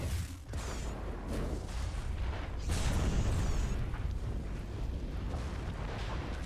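A fire attack being unleashed in the video game Dragonwilds, a dense roaring, crackling burst of flame that swells steadily and holds loud for several seconds without letup.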